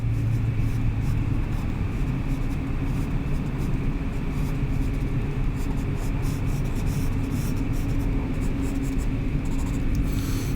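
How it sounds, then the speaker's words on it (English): A chisel-point pencil scratches and rubs across paper while drawing textures and cracks, a dense continuous scraping close by over a low rumble, with no speech. "rotate the pencil slightly and put in a bunch of sharp details and textures, cracks."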